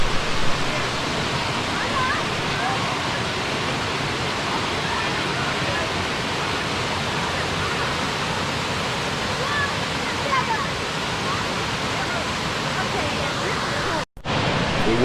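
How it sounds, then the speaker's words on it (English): Skinny Dip Falls in the North Carolina mountains pours in a constant, close, full rush of falling water that holds steady, with a brief cut near the end. "Alright, we have made it here to the Skinny Dip Waterfalls."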